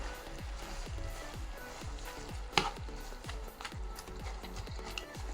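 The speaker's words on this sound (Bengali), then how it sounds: "দিয়ে দিলাম শাক আর আলু। এখন এটাকে একটু নাড়া দিয়ে" Greens and potatoes fry in a pan with a continuous sizzle, while a utensil stirs and scrapes in a regular rhythm of repeated strokes, close and fairly loud, plus one sharper clatter midway.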